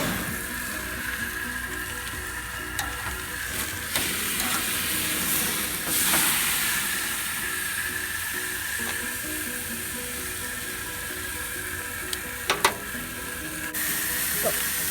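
Grease flare-ups hiss and sizzle steadily beneath an open grill lid while butterflied lamb cooks fat side down, a continuous broad hiss with a few faint pops and clicks throughout.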